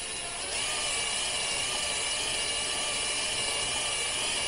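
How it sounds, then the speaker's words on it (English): An electric drill runs slowly and steadily while turning over a 1948 Scott-Atwater 3.6 hp outboard, a constant high whine with a slight shift in pitch after half a second, close and unbroken throughout. "Try to slow this drill down so we can do it."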